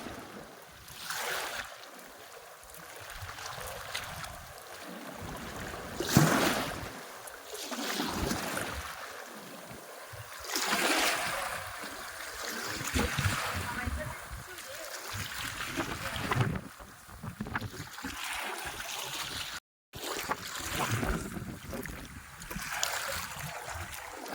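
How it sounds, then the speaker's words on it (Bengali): Stormy wind and waves on a Sundarbans river during a fishing trip: a steady, gusty roar of wind buffeting the microphone, with water sloshing beneath and faint voices now and then. "ঝোড়ো হওয়ার সঙ্গে ঢেউটা আছে"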